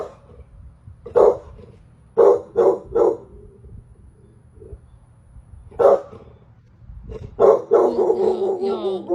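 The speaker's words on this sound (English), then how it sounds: "This dog is standing in the garden barking at seemingly nothing" A dog barks in a garden: single and double barks come in bursts separated by quiet pauses, close and loud, ending in a longer run of yips and whimpers.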